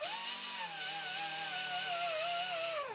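A McGraw angle grinder sanding with sandpaper, a steady high-pitched motor whine whose pitch wavers and dips slightly under load, running continuously and then winding down at the end.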